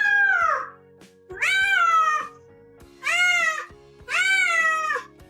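A small male cat meows insistently during playtime, four distinct drawn-out meows with short pauses between, close and clear against a faint background hum.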